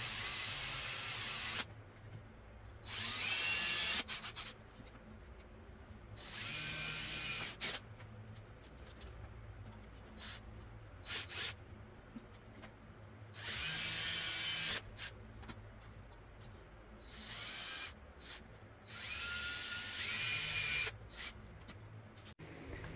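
Power drill runs in several loud bursts of a few seconds each, separated by quieter pauses, close to the listener with faint background rattling.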